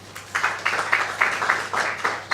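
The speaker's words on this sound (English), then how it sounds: "A round of applause to ourselves" Applause breaks out at the close of the 2017 African Prestigious Awards ceremony, a steady wash of hand claps in a rhythmic pulse that swells and eases, moderately loud and filling the room without voices over it.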